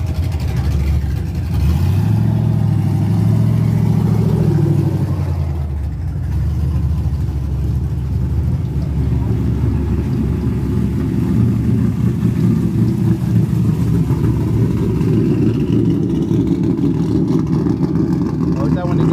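Several trucks, one with a 6.0 engine, idle and rev in a lineup, a loud continuous low rumble with a swell early on, while people talk over it.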